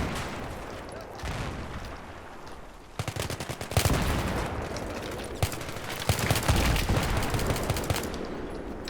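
Battlefield 3 semi-automatic rifle fire crackles in quick bursts of sharp, loud shots, with some dense volleys and near and distant reports layered over background noise, broken by a few quieter gaps.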